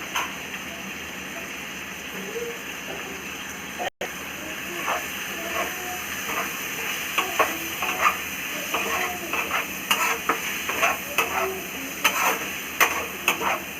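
A spice mixture with cumin powder sizzles and fries in a pan for okra curry, with a steady hiss and spatula scrapes that grow more frequent and sharper toward the end, close and moderately loud.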